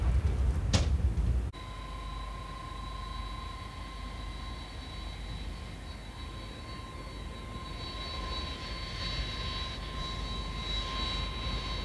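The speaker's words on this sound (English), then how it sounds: "aircraft just coming" An aircraft arriving at Barcelona airport, its jet engine drone steady and fairly distant with a persistent high whine, swelling slightly toward the end after a brief sharp knock near the start.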